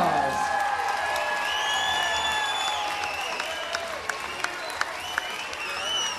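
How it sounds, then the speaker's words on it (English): A crowd at an MMA fight event applauds the fighters after the bout, a dense wash of clapping and cheering with whistles and whoops rising over it, a few sharper claps near the end. "let's give both of these warriors a big round of applause"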